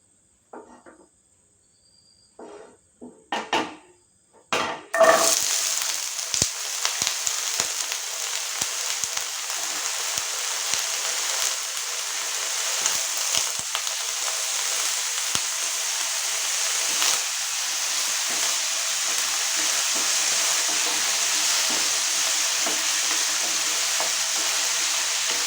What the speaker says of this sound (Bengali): এতে আমি যে আলুগুলো কেটে রেখেছিলাম, মাঝারি সাইজে দুটো আলু, সেটা আমি একটুখানি লালচে করে ভেজে নেব প্রথমে।